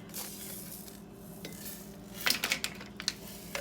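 A spoon adds mustard seed and celery seed to a glass pickling jar, giving soft scraping and a brief burst of light clinks and rattles near the end, close and quiet.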